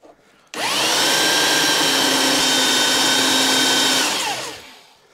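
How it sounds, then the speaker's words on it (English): A borrowed belt sander with aggressive sandpaper grinds down a part on a Juiced Hyper Scorpion e-bike during a rear brake upgrade. It spins up abruptly, whines loudly and steadily nearby for several seconds, then winds down. "I went and borrowed my good neighbor Jim's belt sander."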